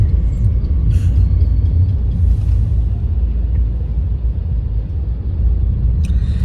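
Steady low road rumble from inside a car heading toward a village, with engine and tyre drone continuous throughout and faint higher rattles, no voices.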